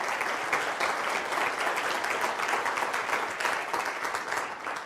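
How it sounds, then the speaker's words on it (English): Conference audience applauding in a hall, a sustained, even roar of many people clapping for around five seconds, steady in level with no voices on top. "A big round of applause for them."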